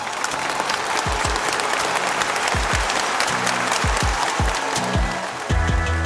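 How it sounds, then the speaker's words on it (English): Loud, sustained crowd applause for panel speakers at a food and agriculture talk, thick and continuous from start to finish, with a few low thumps mixed into the clapping. "I think they deserve an incredible round of applause."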